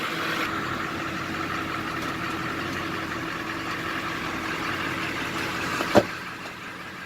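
A car engine idles and runs steadily at close range while the car slowly drives over a tire to break its bead off the rim. A single sharp knock or pop sounds near the end.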